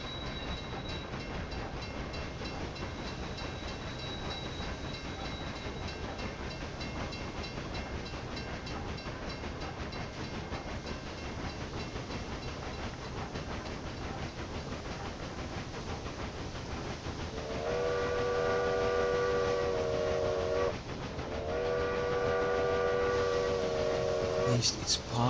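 A steam train passes in the railway strategy game Railway Empire: a steady rumbling rail drone runs throughout, then swells near the end with loud chord-like whistle blasts broken by a brief pause, under a talking voice.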